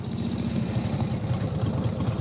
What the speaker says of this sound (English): That engine, that flathead engine, it's just the noise, the sound, you know, the whole thing.